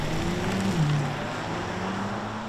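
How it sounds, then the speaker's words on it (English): The engine of a 2022 Acura MDX Type S drones steadily from inside the cabin under acceleration, a loud, constant hum with a faint rising turbo whine over it. "you'll hear the engine and a little bit of turbo whine, which I kind of like."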